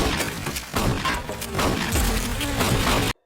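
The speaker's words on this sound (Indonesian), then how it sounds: "Setelah menghancurkan sarang lebah milik Clay" Bees buzz in a dense, continuous swarm around a beehive as it is being destroyed, with loud, rough noise and a few crashing impacts mixed in.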